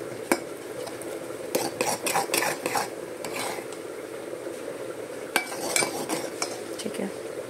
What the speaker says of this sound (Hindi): 2 से 3 मिनट इसे चलाते हुए भूनेंगे, क्योंकि चीनी डाली है तो चिपकने के चांसेस बहुत है